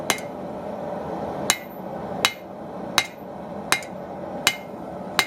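Seven sharp metallic hammer strikes on a blacksmith's blade being thinned, landing at a steady, even pace, each ringing briefly over a low background hum, with no talking.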